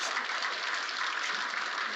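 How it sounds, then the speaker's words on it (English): A convention audience in Dallas breaks into steady, dense applause that holds at an even level throughout, a broad wash of many hands clapping at a distance. "Let's give a round of applause to all the women and girls."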